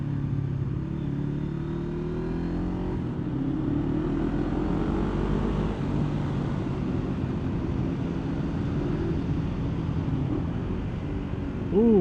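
A Yamaha Vmax motorcycle downshifting on a twisty mountain road, its engine rumbling loud and steady throughout with shifting low tones and a brief rise at the very end.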